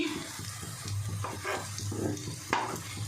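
Vegetable-stuffed oats sandwiches fry in butter in a pan over medium heat, giving a steady close sizzle with soft crackling bursts and a few light scrapes.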